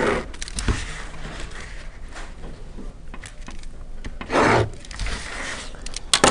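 A marker or pen rubs and scratches across a board while a force diagram is redrawn, with repeated short scraping strokes and a louder sustained rub near the end, no talking.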